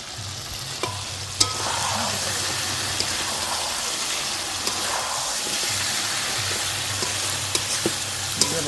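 Chicken feet sizzle steadily in hot oil with cumin, turmeric, chili powder and salt, a constant close frying hiss with occasional stirring clinks and scrapes, no talking.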